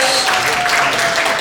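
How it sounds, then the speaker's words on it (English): Applause from an audience at a Zee TV show launch press meet, a dense continuous patter of clapping throughout a short burst, with a voice speaking over it. "With a huge round of applause, ladies and gentlemen"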